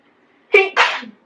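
A person sneezes once, close and loud, with a sharp inhale followed by a burst, in an otherwise quiet indoor room.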